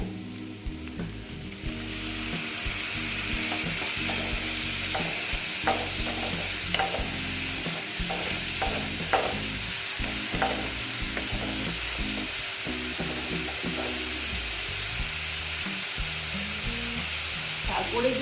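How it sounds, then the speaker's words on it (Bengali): Snakehead fish masala fries in a pan with a little water added, giving a steady loud sizzle broken by scraping stirs and small spattering pops throughout. "এবার আমি এটাকে একটু ভেজে নিচ্ছি একটু জল দিয়ে দিলাম"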